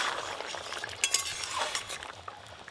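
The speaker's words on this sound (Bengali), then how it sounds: "একদম টকবক করে ফুটছে" Small eggplants simmering in a bubbling fish curry in a pan make a soft, continuous crackling bubble, with a few light metallic clinks from a utensil near the middle.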